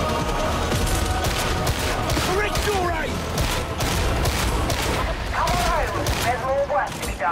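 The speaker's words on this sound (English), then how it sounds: "Who is shooting me?" Gunfire in the Warhammer 40K Darktide video game rattles in rapid, sustained bursts alongside booms and loud battle noise, while voices shout over the fighting.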